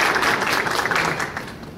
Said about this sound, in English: give a round of applause for all these speakers